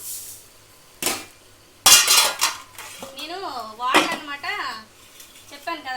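Rice frying in a pan, stirred with a metal spoon that clinks and scrapes against the vessel in several loud bursts, alongside an intermittent voice.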